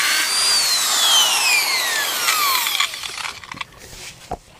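A power drill bores a pilot hole into concrete, its loud whine sliding steadily downward in pitch as it loads up, then cutting out into a few scattered knocks and clatters.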